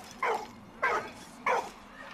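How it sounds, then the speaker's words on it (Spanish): Three short, clear barks from a dog in the video game Valiant Hearts, evenly spaced about half a second apart, standing out over a low background hum. "¿Qué pasa, perrete?"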